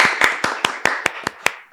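A short burst of hand clapping in a small group, roughly eight sharp claps in an uneven rhythm, fairly close and moderately loud, celebrating a woman named Nayara on a talk show about sport for LGBTQIAPN+ women.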